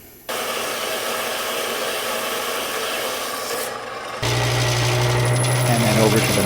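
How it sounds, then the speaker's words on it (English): Portable bandsaw cutting through a metal block, a steady close rasping drone that starts abruptly, then shifts to a louder, harsher tone partway through. "finishing up with a portable bandsaw"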